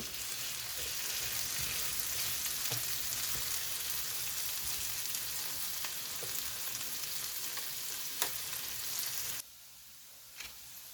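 Breakfast food cooks on a countertop griddle with a soft, even sizzle and faint scattered pops, dropping quieter near the end.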